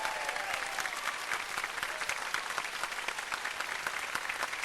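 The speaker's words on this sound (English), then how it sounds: "A round of applause for these people" A studio audience at a taped Nickelodeon show in Orlando claps in a sustained round of applause, steady and fairly distant, with no voices over it.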